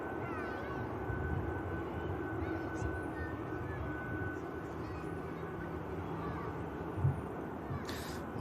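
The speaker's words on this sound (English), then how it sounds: "A few minor adjustments being inputted onto the aircraft before touchdown." An aircraft lands at Manchester Airport with a steady, distant engine roar that holds for several seconds and carries a faint higher whine above it, with a short thump near the end.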